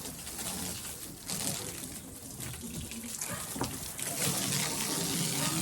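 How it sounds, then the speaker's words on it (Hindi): Running water from a hose pipe splashes steadily as something is washed outdoors, a continuous broadband rush with occasional splatters and faint bird calls in the background. "यहाँ पे मैं धोती हूँ अच्छे तरीके से पाइप के साथ।"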